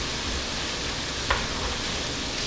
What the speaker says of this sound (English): Okay, our chicken is frying.